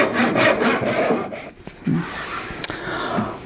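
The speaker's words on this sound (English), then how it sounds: "Now I can just turn it over and kerf the other side." Hand saw cutting kerfs into wood held in a clamped jig for an axe handle stool, with quick rhythmic strokes close by, then a pause with a few light knocks before the sawing resumes more slowly.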